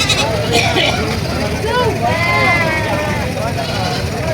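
A large goat bleats several times in wavering cries over a noisy, busy background of crowd chatter at a livestock market.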